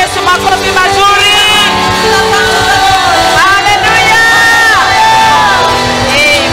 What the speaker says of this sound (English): Let us give a hand clap.